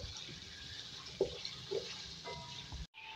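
Half a kilo of potatoes fry in hot oil with a soft, quiet crackle, broken by a couple of light stirring knocks and a brief dropout near the end.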